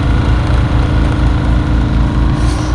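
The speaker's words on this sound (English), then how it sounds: "We have the pump running off of our generator," Generator running a sump pump outdoors at minus twenty degrees in winter, a loud steady low engine drone with a regular pulsing throb, close and continuous.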